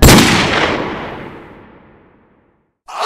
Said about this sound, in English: He knew that gunshot was not from a shotgun.